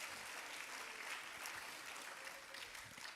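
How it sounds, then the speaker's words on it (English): An audience in a school gathering applauds supervisors, a faint, diffuse patter of clapping that stays even throughout, heard from a distance. "Can we give them a round of applause?"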